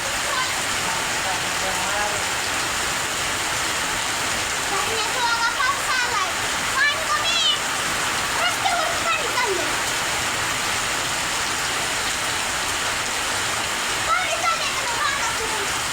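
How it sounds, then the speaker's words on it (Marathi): Steady rain pours down in a dense, continuous wash, with splashing and dripping nearby and a few faint chirps or calls rising briefly above it. "चांगला पाऊस झाला."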